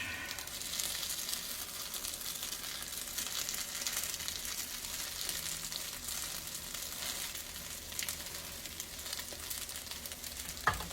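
Loaded tater cakes, about four of them, sizzle and crackle steadily in a frying pan on low heat, a constant close hiss with no talking.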